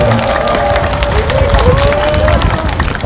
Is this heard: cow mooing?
no